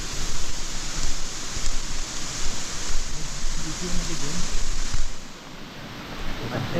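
A monsoon waterfall near a Konkan temple at Harkul roars in the rain as a loud, steady wash of rushing water that eases slightly toward the end.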